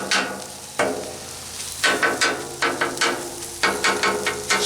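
Eggs and cheddar cheese sizzle loudly on a Blackstone griddle while a spatula scrapes and chops in an irregular rhythm of bursts, close up and with no talking.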